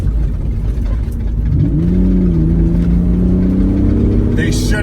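A Mitsubishi 3000GT front-wheel-drive car accelerating hard in second gear on loose gravel, the engine note climbing and holding a loud steady drone close up, with tyre and gravel noise underneath.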